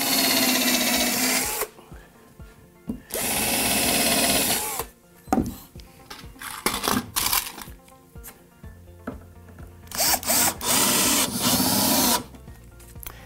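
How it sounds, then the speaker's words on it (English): A power drill bores pilot holes into pallet wood while a living room table is being built. It runs in several loud whirring bursts, some long and some short, separated by quieter gaps with light handling clatter. "Couple more pilot holes in here."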